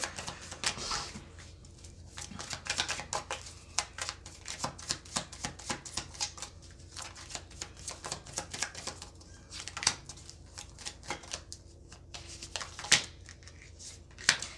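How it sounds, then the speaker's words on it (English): Tarot cards handled, shuffled and drawn at close range, a steady run of quick papery riffles, slaps and flicks continuing throughout with no talking. "I'm going to get a few of these cards here."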